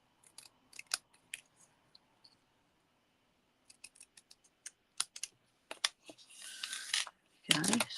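Scissors snipping card paper for a stamped card mat layer: a scatter of sharp, close cuts in short bursts with pauses between, ending in a longer rustling slide of paper.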